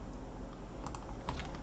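Keys tapped on a computer keyboard while entering a print command in the Python IDLE editor, a quiet, close run of light clicks with a slightly louder keystroke near the end.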